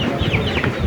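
Farm chickens cluck and murmur continuously in a poultry shed, a dense, close flock chatter with soft overlapping calls and no speech.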